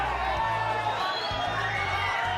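A boxing crowd at a bout between two 115-pound fighters cheers and shouts in a loud, dense roar of many voices close by.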